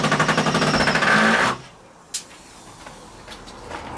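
A screwdriver drives screws into a wall while a reptile room is being built, giving a loud rapid buzzing whir for about a second and a half that stops abruptly, followed by quiet room noise and a single faint knock.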